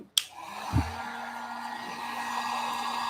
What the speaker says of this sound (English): I need to heat gun some more stickers